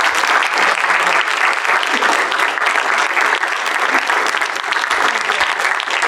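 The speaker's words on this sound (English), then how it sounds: "One more round of applause for our judges here tonight" A large audience at a youth entrepreneurship competition gives a sustained, dense round of applause, steady and loud from start to finish, with a few faint voices mixed in.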